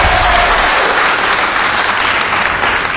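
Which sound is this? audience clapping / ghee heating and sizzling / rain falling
audience clapping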